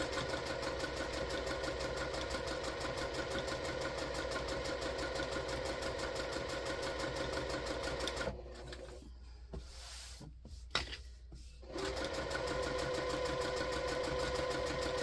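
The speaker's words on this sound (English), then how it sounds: "this is just going to be a basting stitch. We're just going to be attaching this to the foam." A sewing machine running a long basting stitch to attach fabric to foam for a fabric basket, a steady close mechanical whir that stops briefly for a few seconds before resuming.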